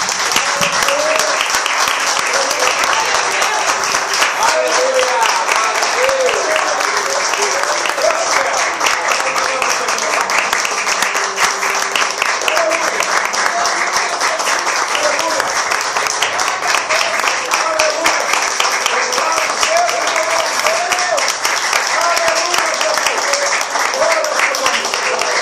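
Church congregation applauding at a worship service, sustained dense clapping throughout with voices mixed into the crowd noise.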